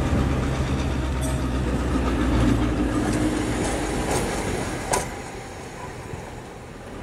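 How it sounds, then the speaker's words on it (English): A six-carriage passenger train on a tour visit in Whanganui rumbles past close by with a continuous loud rolling noise and a few clanks, easing off slightly toward the end, with no talking. "So this train here has got 6 carriages on it with a capacity of 300 people."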